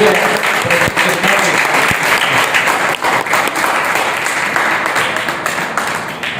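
Sustained applause fills a hall at a Hindi poetry recital (kavi sammelan) in Garhwa, a dense, even roar of many hands clapping continuously with faint voices mixed in.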